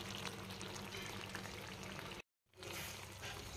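Homemade amla hair oil heating in a pan over a low gas flame, a steady soft sizzle and bubbling that cuts out briefly before resuming, no talking.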